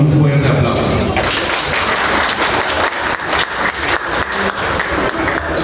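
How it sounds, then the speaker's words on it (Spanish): An audience at a law conference welcomes a speaker with loud, sustained applause. It swells in after a brief moment of a voice and then fills the room as a dense, continuous clatter of many hands. "Le recibimos con un fuerte aplauso"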